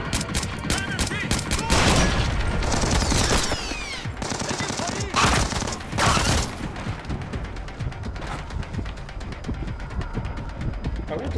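Rapid automatic gunfire and scattered single shots crackle through a Splinter Cell Blacklist firefight, with dense bursts early, a few louder blasts in the middle, and lighter trailing shots toward the end.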